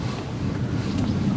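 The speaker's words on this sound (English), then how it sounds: "the boats go through here with their inboard engines" Boats with inboard engines pass on a canal in Thailand, a loud steady low rumble mixed with wind buffeting close to the microphone.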